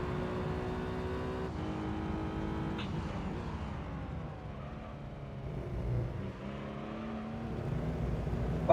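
Race car engine in the Gran Turismo 3 video game during an endurance race, droning steadily at high revs with shifting pitch and brief changes in tone, loud and continuous with no talking.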